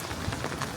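Steady rain patters on the wet stone surfaces of Tallinn's old town square on an empty Sunday, a continuous soft hiss of drops with no voices.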